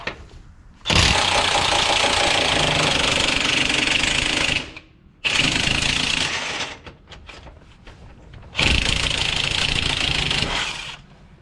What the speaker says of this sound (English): I can get my impact wrench in here and spin this off.